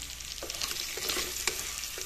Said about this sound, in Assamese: ইয়াতে এতিয়া ফ্ৰাই কৰি থোৱা মাছখিনি দি দিম